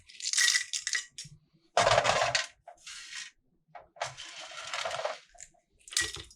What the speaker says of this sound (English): I just want to crack off that parchment on the outside.